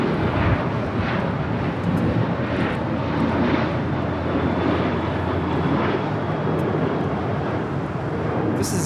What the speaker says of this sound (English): This is United 2140 departing to Houston Intercontinental on a 737-900ER